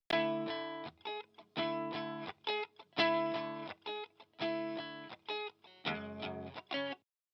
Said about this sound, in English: Next thing is this clean Strat sound, which sounds like this.